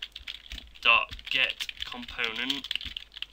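Code is typed on a computer keyboard in quick, uneven runs of close key clicks beneath a voice that talks throughout.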